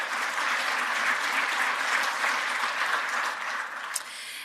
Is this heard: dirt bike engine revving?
no